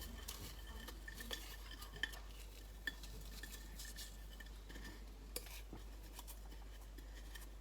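OXO stock cubes are broken up in a pot with a utensil, giving faint scattered clinks and scraping taps of metal on the pot over a low steady hum.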